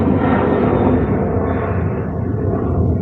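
Loud, steady roar of an airplane passing overhead as heard from a porch, the engine rumble broad and sustained, slowly fading in its higher tones.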